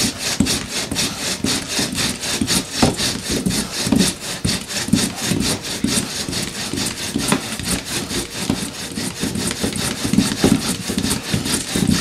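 Rapid, rhythmic grinding of wood rubbing on wood, strokes repeating back and forth steadily and loudly up close.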